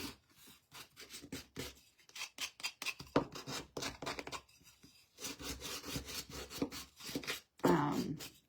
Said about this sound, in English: I'm going to sand these edges to kind of match